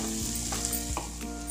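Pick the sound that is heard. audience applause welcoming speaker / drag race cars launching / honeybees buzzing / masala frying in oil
masala frying in oil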